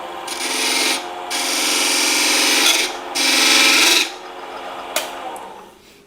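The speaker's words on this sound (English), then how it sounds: "I'll put a little bit of a dovetail on that" On a wood lathe, a turning tool cuts a dovetail into a turned wooden salt cellar box in three loud, close, sustained scraping passes separated by brief pauses, followed by a short sharp tick and a quieter spinning tail.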